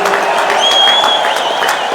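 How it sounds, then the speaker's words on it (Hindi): A large stadium crowd applauds the Prime Minister at a statehood anniversary celebration, with loud, dense, sustained clapping and a high whistle riding over it. "सभी खड़े होकर तालियों की गड़गड़ाहट से सम्माननीय प्रधानमंत्री महोदय का हार्दिक आभार व्यक्त करें।"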